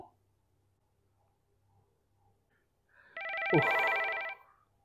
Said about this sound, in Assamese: আকৌ কোনে ফোন মাৰিলে